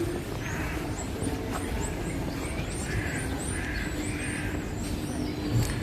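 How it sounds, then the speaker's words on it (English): Outdoor ambience in Istanbul near Hagia Sophia with several birds calling, including repeated high chirps and some harsher caws, steady background noise throughout. "You can actually hear the birds here. Lots of different birds."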